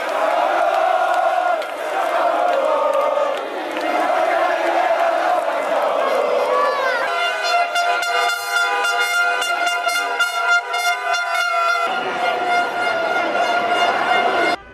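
Football fans celebrate in the city centre of Campobasso with car parades, fireworks, dancing and singing. A dense, loud crowd roar runs throughout, joined midway by sustained, blaring car horns.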